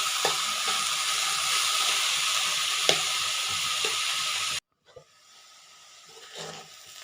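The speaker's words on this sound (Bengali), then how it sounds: "আমার করলাগুলো হালকা ভাজা হয়ে গেছে।" Bitter gourd sizzles steadily in a pan, a loud continuous frying hiss that cuts off abruptly and drops to a faint, low crackle once covered.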